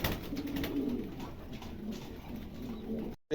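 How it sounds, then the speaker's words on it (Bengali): A pigeon at a market sale coos softly in low, repeated rolling calls, fairly faint and close, running steadily until the sound cuts off near the end, with no talk. "খুবই চমৎকার একটা কবুতর"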